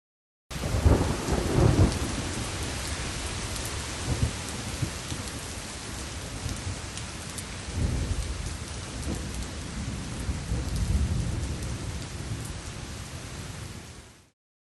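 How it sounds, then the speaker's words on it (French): Heavy rain pours steadily while low rolls of thunder rumble in, loud near the start and again midway, then the downpour fades out. "Oh là là, c'était une sacrée averse."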